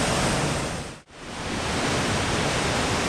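Steady broadband roar of a waterfall on Vancouver Island, loud and continuous, with a brief dip near one second before the rushing water sound returns at full strength.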